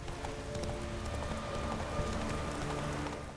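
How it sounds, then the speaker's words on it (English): In The Witcher 3 game, steady rain patters while a horse clip-clops along underneath it. The sound is a soft, continuous hiss at low level with no voices. "Rain's sort of turning into snow just a bit here."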